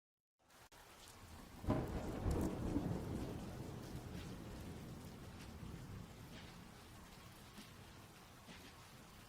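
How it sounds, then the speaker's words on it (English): Rain and thunder from a city scene in the video game Vaudeville, where a deep thunder rumble swells after a short silence and then fades under steady, even rainfall that continues to the end. "Even the drizzle that clung to the city's grimy cobblestones felt a shade darker than your everyday downpour."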